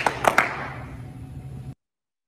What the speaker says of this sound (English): Here at Riverview High School, when we celebrate, we give a double clap.